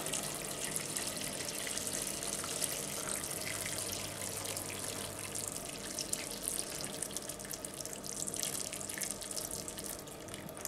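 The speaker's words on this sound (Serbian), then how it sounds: "Nalit ću ga normalno vodom." Water pours steadily into a cooking pot of beans, making a continuous rushing splash that stays close and fairly loud throughout, with no talking.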